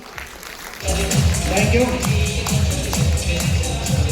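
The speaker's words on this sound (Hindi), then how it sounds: "जोरदार ताली आप लोगों के लिए होनी चाहिए।" Audience applause breaks out at a Delhi seminar and rolls on as steady, dense clapping from many hands, close and loud, after a brief spoken thanks.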